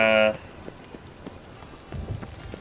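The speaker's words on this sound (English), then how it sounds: "I like rain." Rain falls in The Witcher 3: Wild Hunt, heard after a short tone. Soft, steady patter continues quietly, with a few scattered louder drops near the end.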